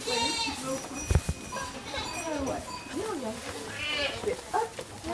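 Goats bleat repeatedly at a French goat farm around evening hay feeding time, with several wavering calls rising over steady background noise and mixed with nearby voices.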